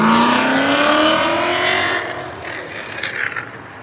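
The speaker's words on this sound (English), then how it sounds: "I have a Mustang going right yonder that had the loud exhaust" A Mustang with a loud exhaust roars past at a rod run car show, its engine note rising and pulling away over about two seconds before fading into background crowd noise.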